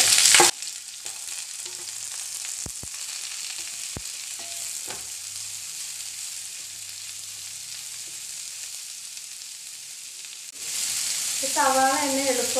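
Sliced onions and green chillies hit hot oil for an egg puffs filling, with a burst of sizzle at the start, then a steady fry hiss with a few sharp clicks. Louder sizzling and a brief voice-like sound come near the end.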